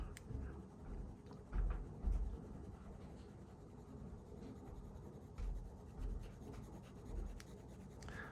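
Soft, close scratchy rubbing of a pencil shading a sphere on paper, in repeated strokes with occasional firmer swipes, quiet and alone.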